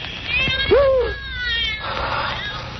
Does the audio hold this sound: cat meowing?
yes